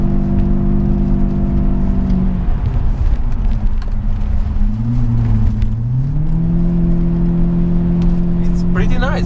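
A BMW 745i E65 with an exhaust cutoff valve, heard from inside with the windows closed while driving in town: a steady engine drone whose pitch dips and rises with gear and throttle changes, with a brief higher whir at the end.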